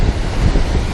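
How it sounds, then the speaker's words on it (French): Strong, constant wind buffets the microphone near the Golden Gate Bridge in San Francisco, a dense low rumble with gusty swells throughout, loud and close, no speech. "il y a énormément de vent"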